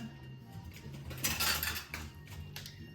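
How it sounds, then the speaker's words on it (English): Big spoon stirring chicken bacon ranch casserole in a big bowl, soft scraping and clinking strokes with a wetter swish in the middle, quiet and close. "Gonna give this wonderfulness a good stir"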